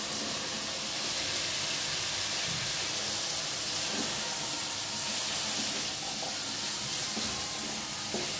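Vegetables go into a pan of frying spices with green chillies and sizzle in a loud, steady hiss that holds evenly throughout with no voices.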